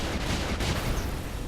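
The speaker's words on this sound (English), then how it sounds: "All the enemies are actually shooting at me." Enemy fire in the mech game Brigador, dense overlapping gunshots and impacts in a rapid barrage, loud and continuous across the short moment, with no voices.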